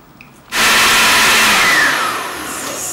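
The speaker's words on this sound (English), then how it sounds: "Chuck it in the blender and then add about probably 200 mils of almond milk." A kitchen blender starts abruptly and roars at high speed, chopping banana, almond milk and cocoa nibs, loud and close, its whine easing slightly as the mix smooths out.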